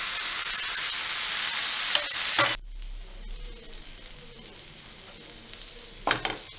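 Vegetable momo filling, seasoned with soy sauce and vinegar, is stirred in a pan, giving a steady bright sizzle broken by a couple of loud, sharp scraping clatters of the spoon against the metal.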